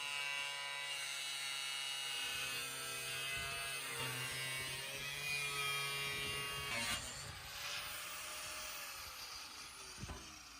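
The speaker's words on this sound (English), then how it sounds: "Here you see Sebastian cutting off the half which will be used for the lid using our beloved angle grinder" An angle grinder cuts through the kiln shell to separate the half used for the lid, giving a steady, high, whining hum that runs throughout with slight shifts in pitch as the cut goes on, with no talking.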